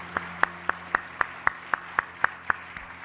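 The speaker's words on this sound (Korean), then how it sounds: "우리 감사한 마음으로 건강하게 사시도록 큰 박수를 보내드리겠습니다" A church congregation claps for mothers during a Sunday service, about eleven crisp claps in even, unison rhythm, close and distinct over a quiet room hum.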